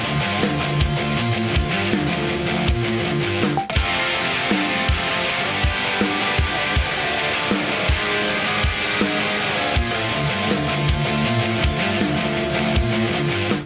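Improvised lead electric guitar overdub lines run through a phaser, layered over a dense full-band rock backing with a steady beat, loud and continuous throughout.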